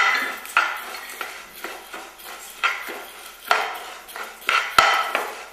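Coriander seeds, cumin and pepper being dry-stirred in a pan for rasam powder, heard as a series of close metallic scrapes and clinks of a spoon against the pan, irregular and fairly loud.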